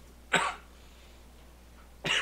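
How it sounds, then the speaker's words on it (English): Two sharp, close coughs into a microphone about two seconds apart, each a brief loud burst over a quiet room hum. "I'm sorry, everybody, for coughing into the microphone."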